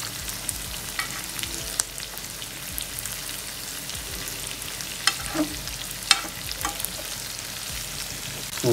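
Prawns frying in a pan, an even close sizzle with scattered stirring clicks and pops throughout, no talk.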